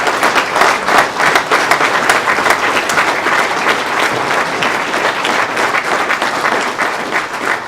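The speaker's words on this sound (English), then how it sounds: "could you just give a round of applause to all these candidates?" A crowd at a political candidate mixer and forum applauds steadily and loudly, dense clapping that fills the room and holds at full strength throughout with no let-up.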